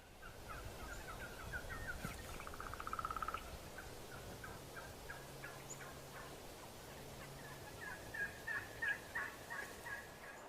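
Wild turkeys gobble in an open field during a bowhunt, with repeated rattling calls carrying from mid-distance over steady outdoor background noise, in a burst near the start and another cluster toward the end.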